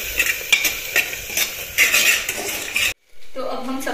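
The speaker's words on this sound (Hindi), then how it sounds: "फिर हम इन सारे मसालों को एक बार वापस से इसको अच्छे तरीके से मिला सकते" A spoon stirs spice masala through egg biryani in a metal pan, a steady scraping and clinking with faint sizzle, cut off by a brief silence before a voice speaks.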